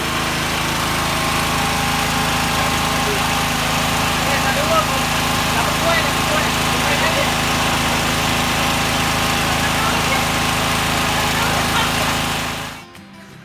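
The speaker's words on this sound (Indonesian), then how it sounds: "Tadi Anda sudah lihat demo dari genset kita E3X ya" A Proquip E3X petrol generator engine runs at a steady, loud, continuous drone close by, then cuts off abruptly at the end.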